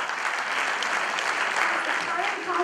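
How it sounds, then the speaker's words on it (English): An audience at a St. George's Grammar School reunion in Chicago claps steadily for a notable alumnus, a dense, even wash of many hands sustained at constant loudness throughout. "Give him a round of applause"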